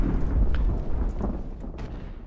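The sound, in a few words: ship cannon fire hitting troops, from the video game Ultimate Admiral: Age of Sail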